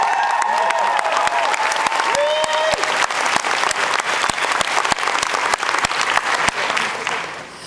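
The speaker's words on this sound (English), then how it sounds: "Big round of applause for him." Audience at a fan convention Q&A panel applauds steadily, a dense wash of many hands clapping throughout that tapers slightly at the end.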